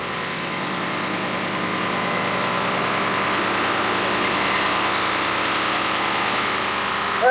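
A 1974 Steiger Bearcat tractor engine idles steadily and fairly close as it warms up, a constant even drone with a dense vibrating rumble and no talking.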